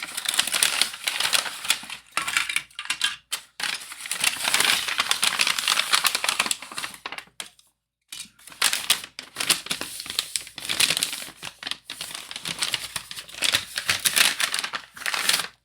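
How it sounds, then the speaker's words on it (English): Parts of an Agora 1:2 scale Alien model kit come out of a plastic bag, with close crinkling and rustling in bursts and one brief pause of near silence. "stop talking for a minute while I get the parts out of the bag"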